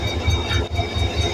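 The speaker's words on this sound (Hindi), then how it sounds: "ये है हमारा लोकोमोटिव।" Idling HGMU 30 diesel locomotive, number 8202, at the head of the Rehman Baba Express in Pakistan, giving a steady low engine rumble with a faint high tonal whine above it, continuous and close with no voices.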